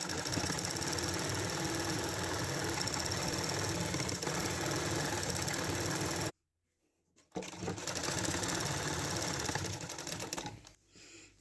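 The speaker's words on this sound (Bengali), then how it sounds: "এখন এই যে সেলাই দিয়ে নিচ্ছি" An electric sewing machine stitches a petticoat for a saree in a loud, fast, continuous mechanical whir, stopping abruptly for about a second before running again and trailing off.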